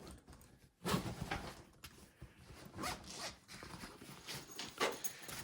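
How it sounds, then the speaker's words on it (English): A zipper on a travel bag is pulled closed in several quick, scratchy runs with short pauses between them, fairly close and clear with no talking. "Zip it up."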